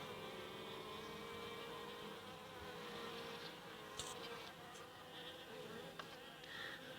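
A dense, continuous drone of many Italian honey bees buzzing close by at a hive, with individual bees whizzing past now and then.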